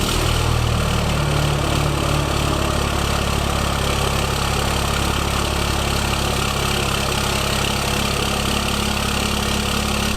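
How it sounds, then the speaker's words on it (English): Pickup truck engine after a cold start, settled into a steady, loud idle with a constant low rumble and drone throughout, no voices. "And cold start."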